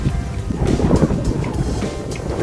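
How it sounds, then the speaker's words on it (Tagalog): Strong wind buffets an outdoor spot at a historic heritage hotel resort in the Philippines, a steady broadband roar with gusty swells and faint water or boat sounds beneath, no talking. "Lakas ng hangin dito."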